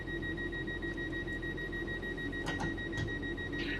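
Steady electronic beeping from the driver's safety system in a train simulator cab on PS4, two sustained tones held continuously over a low rumbling engine hum, with no voices.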